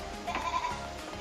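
A Kacang goat buck on a breeding farm gives a single loud, wavering bleat, close by and lasting about a second against steady background noise.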